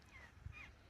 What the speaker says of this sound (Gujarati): મારા પપ્પા જોડે મસ્ત મજાનું ગલુડિયું છે